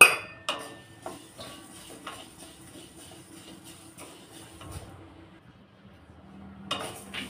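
A spoon scrapes and clinks against a metal bowl as roasted urad dal lentils are moved into it, making a string of light metallic taps that fades into quiet, then sharper clinks come back at the end.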